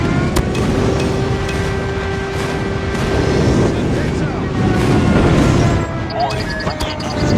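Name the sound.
airstrike explosions in video game COD Mobile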